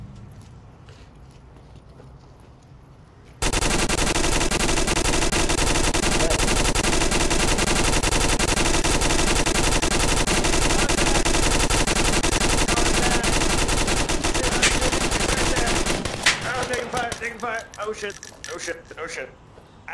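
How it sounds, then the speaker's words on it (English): Sustained, dense gunfire in the VR shooter Onward pours out for about twelve seconds without a break, loud and continuous, then thins into scattered shots at the end. "I put a lot of bullets over there."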